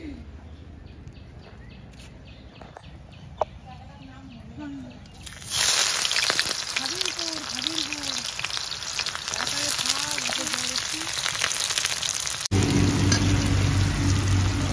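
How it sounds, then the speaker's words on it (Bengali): Chopped onion hits hot oil halfway through, starting a loud, steady sizzle that continues to the end after a quieter stretch of kitchen sounds; someone talks over it. "গরম হয়ে গেছে, এবার কোচানো পেঁয়াজটা দিয়ে দিচ্ছি"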